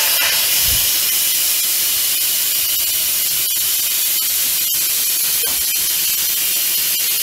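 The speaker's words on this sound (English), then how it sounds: "then just give that a quick release" Loud, steady hiss of steam rushing from an Instant Pot's quick pressure release valve after cooking corn on the cob, continuous and close throughout with no talking.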